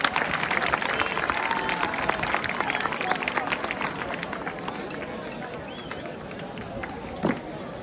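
Crowd applause and cheering at the Barceloneta festa major giants' celebration, a dense steady clatter of many hands filling the clip, with a brief louder burst near the end.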